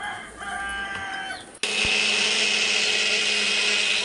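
A kitchen mixer grinder coarsely grinding coconut for a vegetable dish starts abruptly after a quieter stretch of background sound, then runs as a loud, steady, high-pitched whir to the end.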